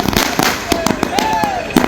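Firecrackers bursting in a rapid irregular string during a BJP celebration in Kanniyakumari, loud and close, with sharp pops and crackles over crowd noise and voices.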